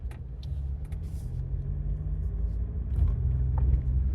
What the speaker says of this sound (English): Now it just rolls up.